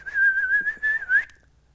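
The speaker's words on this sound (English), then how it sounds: "I got to improve my whistling" A single person whistles one short, steady tone that wavers slightly and rises at the end, close and clear, lasting just over a second before stopping.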